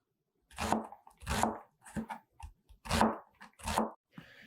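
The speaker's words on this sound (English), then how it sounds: "And then we'll finally dice some yellow onion" A knife dices yellow onion on a cutting board while making squash pozole, giving about half a dozen sharp, close chops and crunches in an uneven rhythm with short pauses between them.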